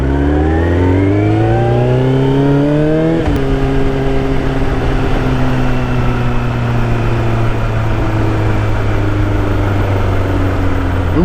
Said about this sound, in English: Oh my god, is that a Supra?